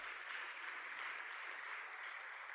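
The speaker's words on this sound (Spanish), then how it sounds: "Dale un aplauso al Señor." Church congregation applauding, a faint but steady wash of clapping that continues evenly throughout, with low hum in the background.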